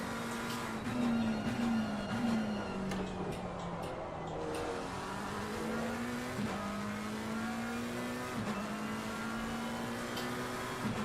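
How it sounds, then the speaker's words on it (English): McLaren race car engine in Assetto Corsa Competizione at Misano, droning steadily with pitch climbing through each gear and dropping sharply at two upshifts, under a continuous tone and no talk. "McLaren really has this distinct sound that's just no other car"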